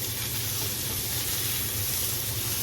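Potatoes sizzling and frying in a cast iron pan while being stirred, a dense continuous hiss with a low steady hum underneath, close and fairly loud, no talk.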